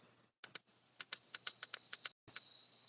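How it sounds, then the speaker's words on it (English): Preloaded cricket sound effect played from a speaker: a steady high chirping with repeated short pulses, fairly faint and close, with brief gaps, no talk. "Crickets."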